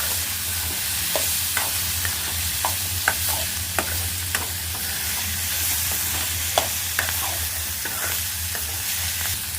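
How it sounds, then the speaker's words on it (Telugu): Chili powder being stirred into chickpeas and flat beans frying in a pan, a continuous oily sizzle with sharp spatula scrapes and taps at irregular intervals, close by. "ఇప్పుడు ఈ కారాన్ని వేసి కలుపుకోవాలి"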